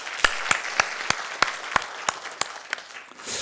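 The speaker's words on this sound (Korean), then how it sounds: "다시 한번 박수하겠습니다" A church congregation at a Sunday afternoon service claps together in slow, evenly spaced rhythmic beats, about a dozen loud sharp claps in unison, close and clear with no talk.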